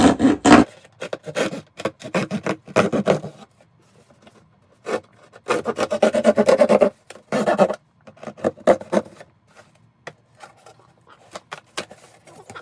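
A knife slicing through a cardboard box in bursts of rough, scraping cuts separated by short pauses, close and fairly loud, with no speech.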